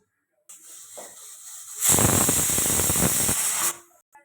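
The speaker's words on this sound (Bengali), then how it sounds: "এবারে প্রেশারটা ঢাকা দিয়ে দেব গ্যাসটা জোরে দিয়ে দিলাম এবার এটা সিটি হতে থাক" Pressure cooker of dal on a gas stove at high flame, lid just locked on: a soft steady hiss builds, then a loud broad rush of escaping steam lasts about two seconds before cutting off, close by.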